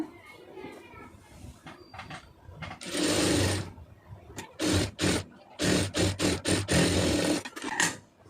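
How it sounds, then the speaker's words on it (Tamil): Domestic sewing machine stitching a puff sleeve seam, running in several short bursts of rapid mechanical whirring separated by brief pauses, close and fairly loud. "அதை அப்படியே திருப்பி ஒரு படிமான தையல் போட்டுருங்க"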